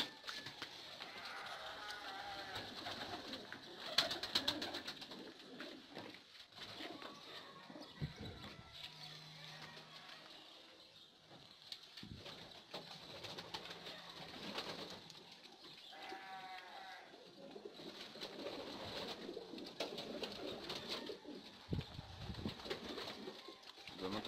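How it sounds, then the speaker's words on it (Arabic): Pigeons feeding on the ground coo softly now and then amid faint rustling and background noise, fairly quiet and close, with no talk. "هنشوف الايه الحمام هياكل ايه من ايه بالظبط"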